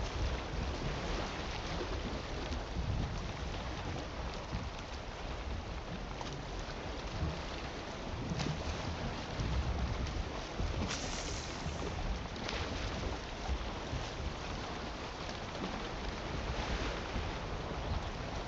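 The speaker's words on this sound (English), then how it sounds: "And now we're getting more waves." Ocean waves wash continuously around a small boat at sea in the video game Valheim, with a dense, steady roar of surf and wind and no speech.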